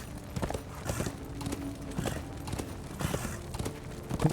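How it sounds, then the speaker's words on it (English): Horse hooves clatter in a steady, rhythmic gallop in the Darksiders 2 video game, moderately loud and even-paced, with no talking over them. "the game already gives you places to go with the horse"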